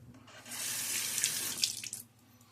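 Water running from a tap into a sink while a hand is wetted during a shave, a bright, hissing stream that swells in after a moment, holds steady, then breaks up and fades as the flow stops.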